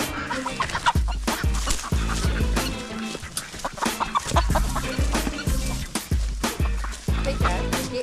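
Barred Rock chickens and a rooster on a New Zealand homestead, cluck repeatedly in close, busy bursts with scattered thumps and movement, loud and irregular throughout.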